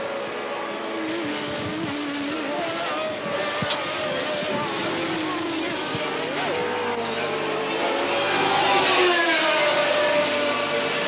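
Formula 1 race cars roar past at the 1981 Austrian Grand Prix. A continuous, loud engine drone rises and falls with passing cars under a commentator's voice.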